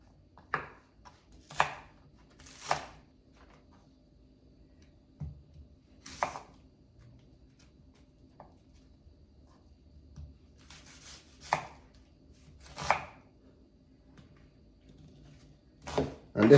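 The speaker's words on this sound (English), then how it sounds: "And I have my onion, scallion, and so forth and so on that I have already named. Now, I'm going to just cut these." Kitchen knife chopping onion and scallion for Jamaican green seasoning, a scattering of sharp single cuts and short bursts on a board with pauses between, close and alone.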